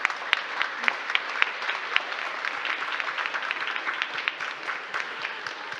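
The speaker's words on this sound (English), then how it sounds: "I'd like to give a final round of applause and thank you to the Commissioner" Applause from a conference audience after a keynote, many hands clapping in a brisk, even patter with a few sharper individual claps standing out, continuing throughout at moderate volume.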